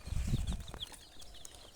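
Fayoumi roosters cluck and call briefly up close while eating, a short burst of fowl sounds over low background noise.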